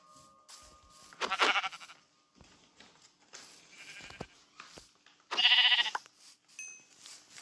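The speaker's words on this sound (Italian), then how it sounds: "Pecorella, dammi la tua pecora." Sheep in the video game Minecraft bleat in a few short, clear calls spread across a quiet stretch, the loudest near the middle, with faint game sounds between them and no talking.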